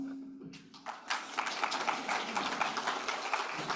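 An audience at an Open RAN industry symposium claps, a dense patter of hand claps building after a quiet start and carrying on steadily at moderate distance.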